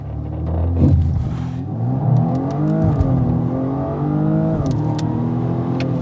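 A BMW M235i Gran Coupé launching hard with launch control, its engine roaring up through the revs with a brief dip at each gear change, loud and close from inside the cabin.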